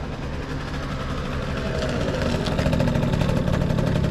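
A repaired scooter engine runs steadily after a roadside fix on a France road trip, a loud, continuous mid-pitched drone that holds even throughout without talk.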